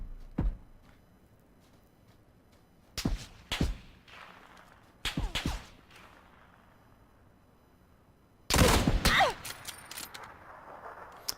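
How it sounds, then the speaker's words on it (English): Kar 98 sniper rifle shots in a battle royale video game: a few sharp, loud reports spread across the stretch, separated by quiet gaps, with a longer burst of mixed noise near the end. "So I decide my best chance is the sniper rifle."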